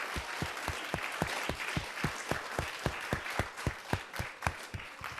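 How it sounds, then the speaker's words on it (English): Applause for LA Galaxy soccer players at a Let's Move! kids' event: a thin scattering of claps with a few loud, sharp claps standing out in a steady, evenly spaced rhythm, likely one person clapping close by. "let's give one more round of applause for our wonderful LA Galaxy folks"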